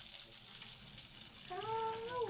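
Turon banana spring rolls frying in plenty of oil, a faint steady sizzle with a soft bubbling hiss that grows slightly louder toward the end, along with a brief whistling tone.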